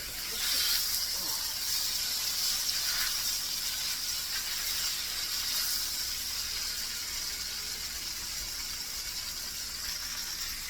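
Garlic butter honey pork chops sizzling in a hot pan, a steady bright hiss with soft crackle that holds at a constant level throughout, close by with no talking.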